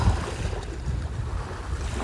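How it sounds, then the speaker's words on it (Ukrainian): Sea waves roll in with a steady, broad, wind-blown roar, loud and continuous with no voices. "Прийміть як оці хвилі моря, які наступають"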